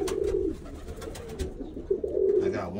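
Birmingham Roller pigeon squeakers give soft, low cooing calls, one at the start and another near the end, close by with faint scratchy rustling in between.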